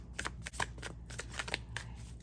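Tarot cards being shuffled by hand, a quiet, steady run of soft papery riffles and slaps repeating close by, with no voice over them.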